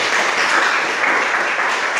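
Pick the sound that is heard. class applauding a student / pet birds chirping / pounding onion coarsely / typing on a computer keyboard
class applauding a student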